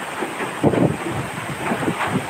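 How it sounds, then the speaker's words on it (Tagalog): Strong typhoon wind from Typhoon Odette during landfall in Mindanao, gusting in broad roaring surges with buffeting against the microphone, loud and continuous with no talk. "Grabe, napakalakas po ng hangin ni Udit"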